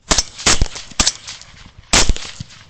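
Rifle shots fired at hogs by shooters resting on a gate: four sharp, loud cracks at irregular intervals, each with a short echoing tail.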